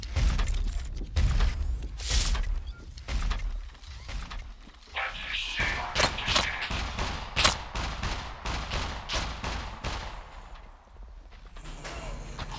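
Sharp gunshots ring out in Scum, several spaced cracks early, then a rapid cluster of loud reports in the middle, mixed with mechanical clattering and creaks.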